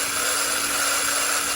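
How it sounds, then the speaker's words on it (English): A drill with a carbide tip grinding and smoothing a damaged Corvette C3 headlight switch bezel, a steady high-pitched whine that holds constant and loud from start to finish with no talking. "we're basically just taking a drill with a carbide tip"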